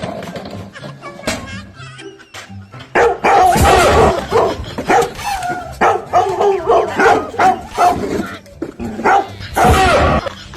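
A dog barks loudly and repeatedly at a house, with a few yips and whimpers between barks. The barking is close and comes in irregular bursts, sharpest in the second half.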